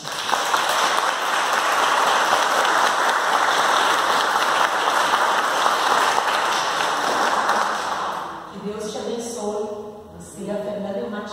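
An audience gives warm applause, a dense sustained wash of clapping for several seconds that then tapers off, with a few scattered claps and a voice near the end.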